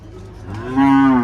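A cow at a livestock market lets out a single loud, close moo that swells and holds steady, with murmuring market bustle underneath.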